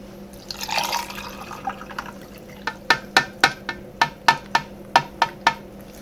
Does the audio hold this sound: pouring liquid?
yes